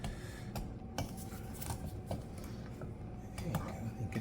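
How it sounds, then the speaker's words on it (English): Brownie batter being whisked in a bowl, with quiet clinks of the whisk against the bowl and soft wet stirring scraping along at an irregular pace. "I can get a good whisking action with this."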